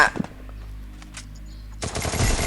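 Video game gunfire during a ranked match: a few sharp shots early on, then a loud, dense burst of rapid fire over the last half-second, with no talking.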